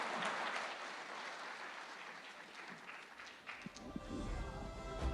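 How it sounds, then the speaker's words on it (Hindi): Audience applause for Akhilesh Yadav on stage at the TV9 WITT Summit 2026, a steady full-room clapping that holds for several seconds, thins slightly near the end and then swells again. "एक बार जोरदार तालियां अखिलेश यादव जी के लिए प्लीज।"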